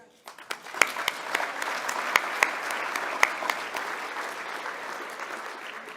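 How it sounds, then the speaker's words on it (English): A crowd at a mining club luncheon gives a warm round of applause, with sharp individual claps standing out from a full, sustained wash of clapping that gradually softens. "Let's start with a heartfelt round of applause to everyone in our industry"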